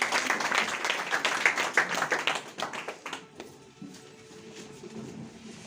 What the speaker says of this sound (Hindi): तालियां एक बार सभी के लिए